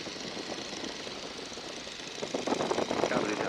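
A 1942 Boeing Stearman biplane's radial engine throttled back to about 1,500 RPM gives a steady, rough, knocking drone, with a louder burst of clattering toward the end.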